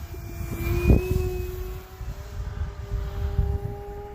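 An RC Sbach aerobatic plane with a Rimfire .46 electric motor on a 6S battery flies in cold winter air, its steady motor whine droning throughout with a brief louder swell near the start.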